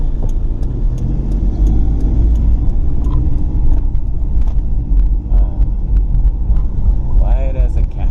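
A car engine runs after an exhaust leak repair, giving a steady, loud low rumble at close range with a bit of added gas. A voice speaks briefly near the end.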